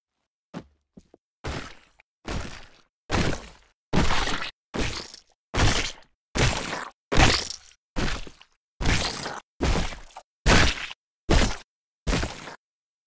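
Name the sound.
ragdoll impact and gore sound effects combined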